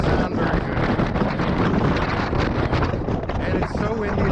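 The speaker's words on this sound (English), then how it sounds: "it's windy, so that probably doesn't sound very good" Strong wind buffets the microphone on the open deck of the cruise ship Jewel of the Seas, a loud, continuous rumbling roar with gusty fluctuations throughout.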